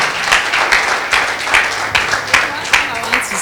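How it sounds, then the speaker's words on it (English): Church congregation clapping hands together in rhythmic bursts during a worship testimony, steady and fairly loud, with voices mixed in around the claps. "Clap hands to Jesus."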